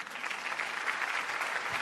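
Steady applause from a group of people clapping, a dense even wash of claps lasting a couple of seconds with no voices over it.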